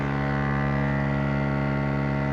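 A cordless massage gun running at its highest setting gives a steady, loud motor hum with a fast pulsing buzz, close and continuous with no pauses.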